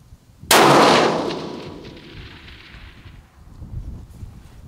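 A single loud, close gunshot from an FN SCAR 20S rifle fitted with a muzzle brake, firing at long range, with a sharp crack that rolls off into a long echoing decay.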